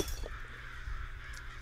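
Crows caw a few times over a low, steady ambient drone in the horror video game Worse Than Death, the calls fairly close and clear with no talking.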